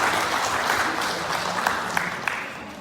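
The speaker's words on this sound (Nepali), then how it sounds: "एकचोटि फेरि ताली बजाउन म यहाँलाई अनुरोध गर्दछु" Audience applause at a live Kali Prasad Baskota program in Lubbock, Texas: dense, even clapping from a crowd, moderately loud and sustained throughout.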